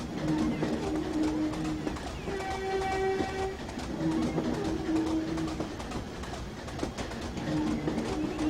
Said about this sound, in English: The horn has come back!